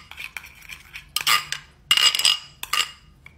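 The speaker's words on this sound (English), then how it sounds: "Keep stirring. Keep stirring." A spoon stirring a home remedy concoction in a container, with scraping, clinking strokes coming in irregular bursts, close and fairly loud.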